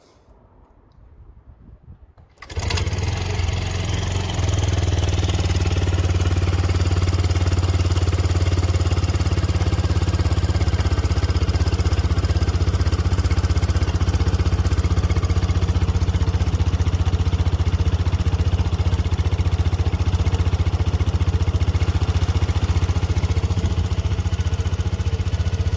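A 2016 Piaggio Medley 125 scooter engine starts after a quiet moment and then idles loudly and steadily for the rest of the stretch, with no talking.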